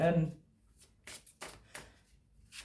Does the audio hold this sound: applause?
no